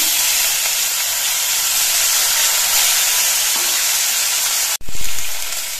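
Hilsa fish pieces fry in hot oil with a steady, loud sizzle and hiss that continues without a break, cut by one sharp clatter near the end.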